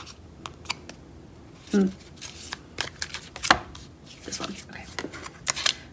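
Tarot cards are shuffled up close, a string of crisp irregular slaps and riffles spread across the moment, with someone briefly speaking between the card sounds.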